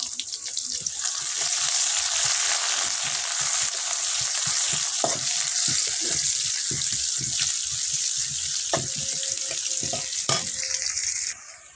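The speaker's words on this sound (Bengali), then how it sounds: "ভালোভাবে সবগুলোকে একসঙ্গে ভেজে নেব।" Chopped garlic and green chilli sizzle in hot oil for a masoor dal with raw mango, making a loud, continuous frying hiss with occasional stirring clinks and no talking.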